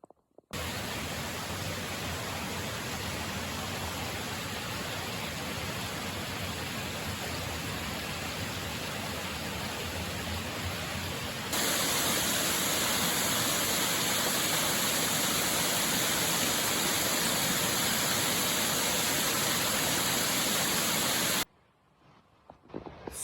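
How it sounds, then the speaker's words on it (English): A forest stream runs through a gorge along a hiking trail, a continuous broadband rush of flowing water that fills the whole scene at steady loudness, briefly interrupted and then growing slightly brighter before cutting off near the end. "There's actually some running water not too far from the site, so you can hear that as a background noise."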